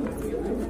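A pair of pigeons kept for sale coos close by in a brief, soft, throaty burble.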